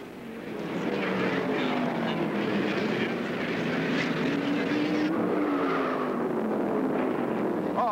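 Stock cars at the 1974 Dogwood 500 race by, engines snarling in a loud sustained drone with shifting pitch and scraping, skidding noise, close and continuous throughout, with no clear single impact.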